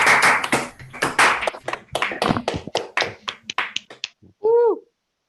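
Online session participants unmute and clap together in a scattered round of applause, close and uneven, ending with a short whooping voice.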